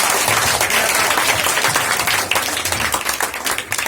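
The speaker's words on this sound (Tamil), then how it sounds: "எல்லாரும் ஒரு கைத்தட்டல் கொடுப்போம்." Audience applause at a December 25 church program, a dense wash of many hands clapping continuously for four seconds, loud and close, thinning slightly into more distinct individual claps toward the end.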